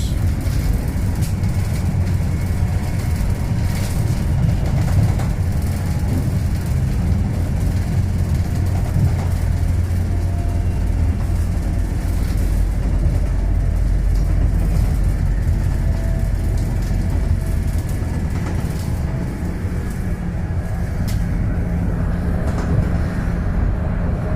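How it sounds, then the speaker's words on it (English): Steady rumble of a train heading south toward the Scottish Borders, rolling along the rails, a constant low drone with faint rattling, continuing unbroken throughout. "On the train heading south to the Borders."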